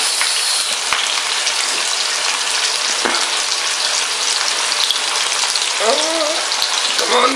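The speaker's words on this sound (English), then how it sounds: "it's time to add the chopped onions" Chopped onions hit a hot pan for a lamb curry and sizzle loudly and continuously, a dense crackling fry with a brief stirring clatter near the end.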